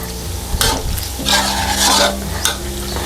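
Pork belly fries in oil over medium-low heat while a utensil stirs it, making a close, steady sizzle broken by scraping strokes and light clinks against the pan.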